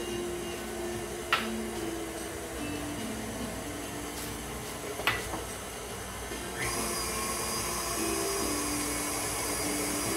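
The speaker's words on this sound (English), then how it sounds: "So butter and cream cheese creaming together like that." Electric mixer creaming butter and cream cheese together, a steady whirring hum running throughout, with a couple of faint clicks and a slight lift in intensity toward the end.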